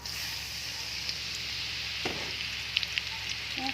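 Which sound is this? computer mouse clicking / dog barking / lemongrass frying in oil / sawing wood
lemongrass frying in oil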